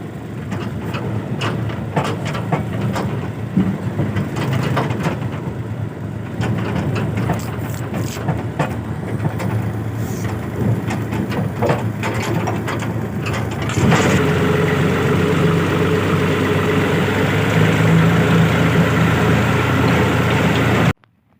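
A heavy engine rumbles continuously, growing louder and deeper partway through, then cuts off abruptly at the end.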